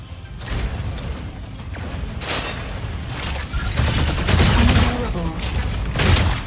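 Mech weapons firing in Mecha BREAK, a video game, with bursts of rapid gunfire and booming impacts repeating across the clip, loud and dense over low rumbling mechanisms.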